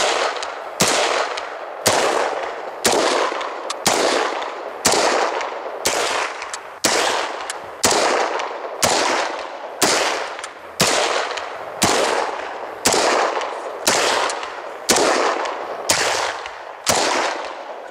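A Century Arms C93 pistol fires about seventeen evenly spaced, loud, sharp shots, roughly one per second, each with a short decaying tail, with no talking.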